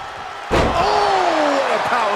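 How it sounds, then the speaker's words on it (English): A single heavy power slam crashes down early in a WWE 2K23 match between Bobby Lashley and Karrion Kross, a loud body-on-mat thud followed by sustained crowd and voice noise. "Oh, what a power slam"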